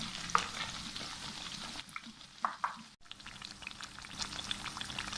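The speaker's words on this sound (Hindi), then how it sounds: "1 मिनट इस साइड फ्राई कर लेते हैं।" Naan pakoras frying on their second side in oil, a soft, quiet sizzle with a few sharp ticks and clinks of a utensil, fairly low in level and steady.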